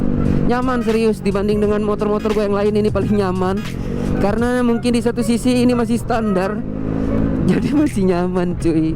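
A Yamaha Aerox motorcycle exhaust drones from behind while riding, a steady engine hum with rising revs under continuous close talk from the rider.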